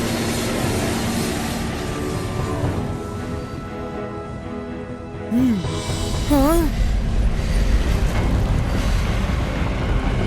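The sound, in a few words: train running on tracks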